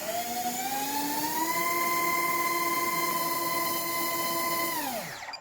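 A small motor spins 5-inch three-blade propellers on a 4S battery during a bench thrust test, giving a loud, steady high-pitched whine that rises briefly, holds, then winds down sharply at the end.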